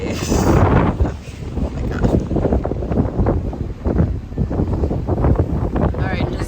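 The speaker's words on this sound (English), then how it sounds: "adult only area, but it's super windy." Strong wind roars steadily across the adults-only deck of the Disney Fantasy cruise ship, loud and close with buffeting gusts, while a person speaks briefly over it.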